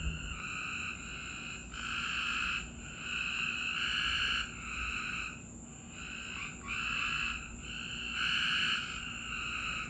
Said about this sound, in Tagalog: Ang ingay ng mga palaka ba yan sa labas?